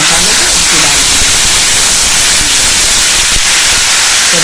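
Onion, ginger-garlic-chilli paste and masala frying in a pan for a jackfruit kofta curry, giving a steady, close, loud sizzle that runs without a break.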